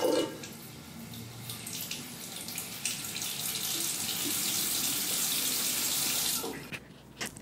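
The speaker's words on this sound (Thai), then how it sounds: "เดี๋ยวจะให้ฟังเสียงน้ำก็แล้วกัน" Water runs from a tap in a bathroom, a steady hissing gush that fills most of the stretch at moderate level before cutting off near the end.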